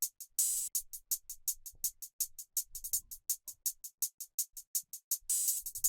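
Crisp hyperpop/glitchcore hi-hat pattern with open hats, steady rapid ticks in a tight rhythm, brighter washy bursts near the start and end, close and alone with no talk.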